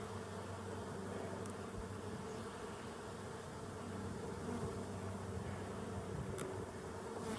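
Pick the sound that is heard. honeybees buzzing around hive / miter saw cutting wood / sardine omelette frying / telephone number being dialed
honeybees buzzing around hive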